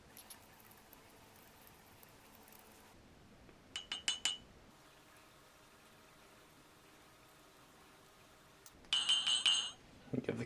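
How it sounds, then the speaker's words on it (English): A spoon stirs tea and cocoa in cups at a breakfast meal, giving two short bursts of quick clinking and scraping against the cup, separated by a quiet stretch. "We'll give those a stir."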